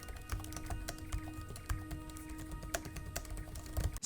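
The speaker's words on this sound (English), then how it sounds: "the way that a keyboard feels and sounds when I type" Steady, rapid typing on a laptop keyboard, soft clicking keystrokes close by with no talking.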